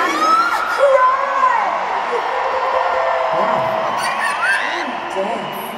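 Huge stadium concert crowd at a show in Stuttgart screaming and cheering, a dense loud roar with whoops and yells swelling over sustained music.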